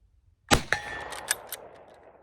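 A single sharp rifle shot in 7.7 Japanese caliber cracks out loud at an outdoor range, followed by ringing echoes and a couple of fainter metallic reports trailing off.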